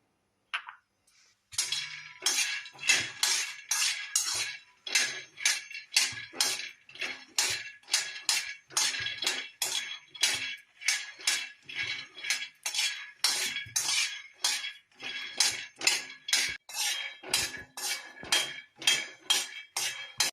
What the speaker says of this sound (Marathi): अशा प्रकारे आपले शेंगदाणे खमंग भाजून झाले आहेत